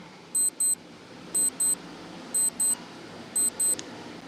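A quiz countdown timer beeps in a steady rhythm, paired high electronic bleeps repeating about once a second, crisp and clear over a soft background hiss, with no one speaking.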